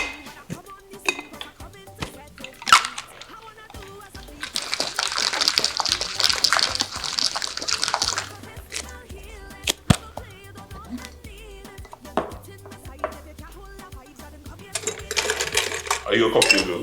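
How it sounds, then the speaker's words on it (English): A peach and watermelon cocktail is shaken with ice in a shaker, heard as two bursts of close, bright rattling with clinks and brief talk in between. "So now I'll shake."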